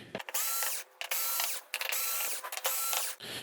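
Screwdriver driving out screws from the metal housing of a Samsung UN46D7000 TV, close, crisp ratcheting whirs in several short bursts with brief pauses between them, and no talk.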